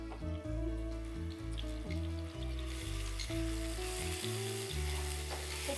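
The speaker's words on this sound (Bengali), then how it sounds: "এটা দিয়ে একটু ভাজা ভাজা হবে" Onion paste fries in a hot pan with a steady, close sizzle, while background music plays over it throughout and no one speaks.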